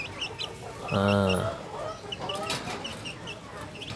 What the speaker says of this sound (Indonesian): tapi ini ada anak ayam ini